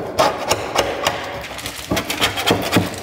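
A scraper scraping a Honda AWD viscous coupler part in a garage, giving a run of short, uneven rasping strokes at close range, with no talk.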